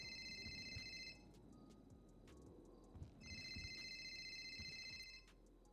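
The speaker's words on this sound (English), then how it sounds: "Whose phone is ringing?" A phone rings inside a GTA NoPixel roleplay game, repeated electronic ring bursts near the start and again after three seconds over a steady game background, fairly loud and alone.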